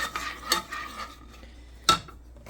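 Annie's macaroni and cheese being stirred in a pan: soft scraping and a couple of distinct spoon-against-pan clinks, close and moderately loud, separated by quieter moments.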